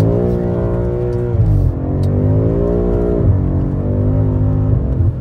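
A 2021 BMW M5 F90 engine roars loud and close during a quick flick of the car, its pitch dipping and climbing again in smooth revving swells.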